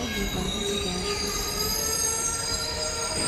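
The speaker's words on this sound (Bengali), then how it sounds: "তো এই যে ট্রেনটা এসছে" A train pulls into a station with loud, sustained high metallic wheel squeal ringing over a rumbling rolling roar, close by and continuous.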